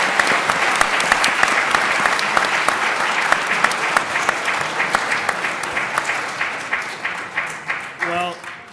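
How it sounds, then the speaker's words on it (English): A room of listeners applauds after a panel discussion on judicial power and judicial supremacy. The clapping starts thick and continuous, then thins into distinct, scattered claps, and a voice speaks briefly at the end. "I think we should applaud Professor Tyler."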